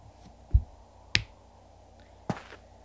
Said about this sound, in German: Falls ihr das Klatschen gehört habt, das war meine Hand gegen die Stirn.